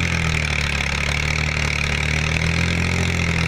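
A Massey Ferguson 7250 50 HP tractor working soil in a field, its diesel engine running at a steady, loud drone with a constant low hum and no change in pace.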